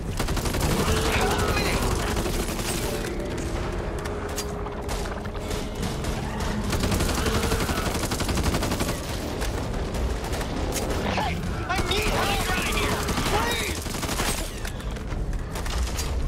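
Rapid gunfire in the co-op zombie shooter Back 4 Blood, dense bursts of automatic shots and booms going almost continuously and loudly, with players talking over it.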